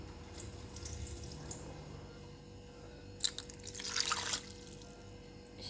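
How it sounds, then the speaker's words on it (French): Water poured into a cooking pot for fish cooked in a parcel with tomato, a faint trickle that swells into a brief louder splashing pour near the end, close and quiet with no voices. "je vais mettre un peu d'eau"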